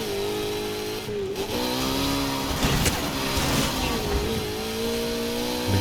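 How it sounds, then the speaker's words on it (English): Video game car engine bouncing off the rev limiter while the wheels spin in place, a loud, sustained buzzing rev that wavers slightly in pitch, with tire noise and game effects mixed underneath. "Like you're just kind of revving on the spot. You're hitting limiter."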